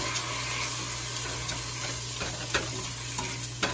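Soaked glutinous rice sautéing in a hot pan while being stirred, a soft steady sizzle with scraping and clicking strokes of the spoon, close and fairly quiet.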